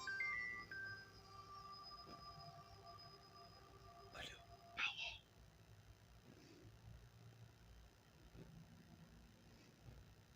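A phone ringtone rings in a reaction setting, a short repeating electronic chime early on, followed by a couple of brief tonal bursts, with faint background hum and speech around it.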